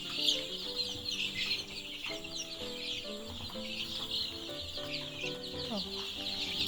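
Broiler chickens on a Ghana poultry farm cluck and chirp in a dense, continuous chorus, many birds close by calling over one another in overlapping short bursts.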